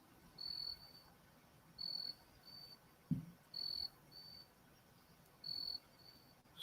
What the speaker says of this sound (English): Who's got the crickets, or is that like a background musical thing?